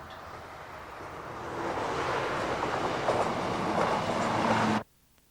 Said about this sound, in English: the BR Sprinter sets off again, leaving the resort of Tywyn behind.